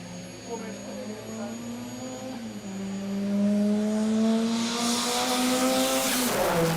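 An E36 BMW race car fitted with a Mazda engine passes, its high engine note climbing through gear changes and swelling louder as it approaches, with a faint voice underneath.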